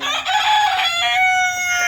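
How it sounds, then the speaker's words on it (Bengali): A white rooster crows loudly and close by in one strained, drawn-out call that fills the short clip, heard alone with no talking. "ওই যে সাদা মোরগ"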